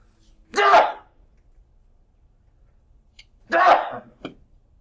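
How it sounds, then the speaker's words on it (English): Two sharp, explosive sneezes a few seconds apart, close by, each a short burst with quiet in between. "I've got to sneeze, sorry"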